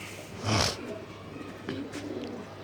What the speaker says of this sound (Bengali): এই যে আমার কবুতরগুলি ভালোই আছে